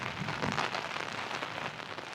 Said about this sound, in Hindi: इस वक्त बारिश की इंटेंसिटी का अंदाज़ा आप लगा सकते हैं।